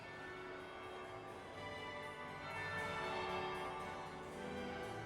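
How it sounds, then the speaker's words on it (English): A bell rings in the fantasy video game Dragon Age Inquisition, a faint, sustained metallic tone with lingering overtones under a steady ambient wash, no voices. "That would be the second bell."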